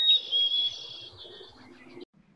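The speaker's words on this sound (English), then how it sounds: "Black-capped chickadees sound like they're greeting a loved one." Black-capped chickadee song: clear, high whistled notes near and fairly loud, fading over two seconds, with faint low sounds beneath and a short quiet tail.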